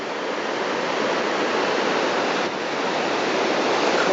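Big ocean waves break along a grey coastline near Lima, making a loud, steady roar of surf and churning water that fills the whole stretch with no talk.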